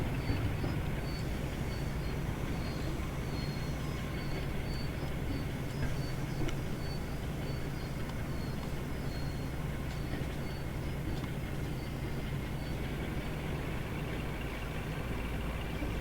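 A Class 52 'Western' diesel locomotive in the Train Sim World video game rumbles steadily along the track, a continuous low, fairly faint drone with a thin high tone running over it and no talking.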